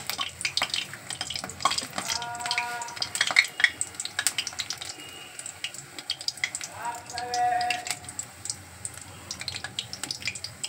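Rohu fish roe fritters fry in hot oil with a steady crackling sizzle, broken by sharp clicks and scraping from a utensil, while voices briefly come and go underneath.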